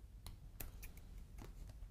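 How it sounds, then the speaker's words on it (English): Scissors cutting around the outline of a paper Christmas tree, several short, crisp snips spaced irregularly, close by and fairly quiet. "I'm going to just use my scissors here and, as I said, work my way round and just cut this tree out."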